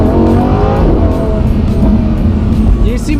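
A Lamborghini Huracan in Sport mode revs hard from inside the cabin, its engine note climbing in pitch through quick gear changes, loud and continuous, with a voice talking over it.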